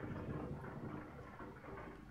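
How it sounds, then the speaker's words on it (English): Rain falls steadily in Euro Truck Simulator 2 while driving through the Alps, a dense continuous wash of rain with a low rumbling undertone like distant thunder, faint and without any talking. "Oh, rain."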